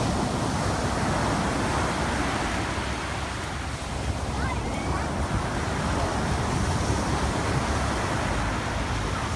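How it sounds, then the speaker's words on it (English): Ocean waves beside a boardwalk wash in a continuous, loud, broadband roar with no clear pauses and no voices. "So what do you think about the ocean? It's big, loud, and kind of greenish blue."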